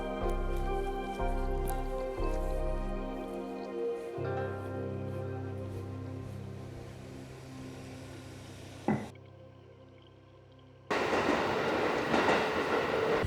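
A train arriving at Saga Arashiyama station on the outskirts of Kyoto, with loud wheel rumble and clatter that fade into a brief screech and a quieter pause, then a burst of broadband noise.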